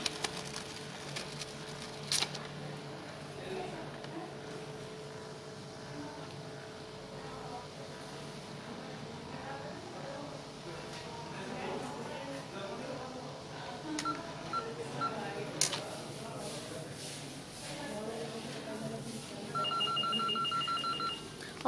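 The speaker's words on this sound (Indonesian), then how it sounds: "ini dokumen sudah mulai proses penyekenan dan pengiriman." An office fax machine scans and transmits a document, with dialing tones, electronic beeps and a steady mechanical hum running throughout, ending in a clear series of tonal signals.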